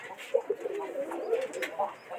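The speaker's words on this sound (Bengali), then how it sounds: "দেশি গোলা কবুতর এগুলা।" Native desi gola pigeons coo in soft, repeated, throaty warbles close by, several overlapping calls rising and falling.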